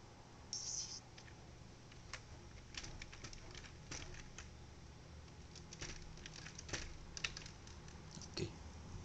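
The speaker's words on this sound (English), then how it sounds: "So let me just type it." Someone types on a computer keyboard, with irregular light key clicks and taps close by at low volume and brief pauses between bursts, with no talk.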